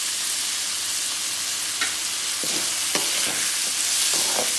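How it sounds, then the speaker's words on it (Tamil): Tomatoes and onions sauté in a pan with salt, a continuous hissing sizzle with several spatula scrapes and stirring knocks, close and moderately loud, no speech. "இப்போ ஒரு ரெண்டு நிமிஷம் தக்காளி வெங்காயம் நல்லா வதங்கட்டும்"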